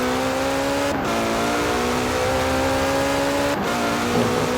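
Ferrari 575M Maranello accelerating in Forza Horizon 4, its engine note climbing steadily through the gears with two brief shift breaks, loud and continuous with no talk.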